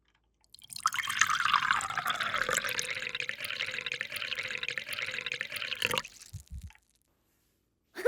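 Water trickles from the dispenser of a small pink toy refrigerator, a thin steady dribble lasting several seconds before stopping, followed by a few faint clicks.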